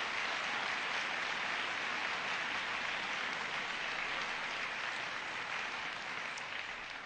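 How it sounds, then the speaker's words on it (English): Sustained applause from an audience at a school event honoring teachers, a steady dense wash of clapping that holds evenly throughout without talk. "they deserve a huge round of applause"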